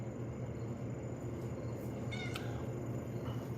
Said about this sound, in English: This cat is so needy,